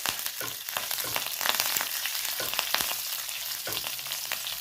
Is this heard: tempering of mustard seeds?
yes